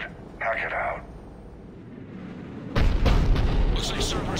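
A heavy cannon booms in Mass Effect 3, with a loud burst of low rumble and crackling blasts arriving abruptly after a quieter stretch, preceded by a brief game sound effect.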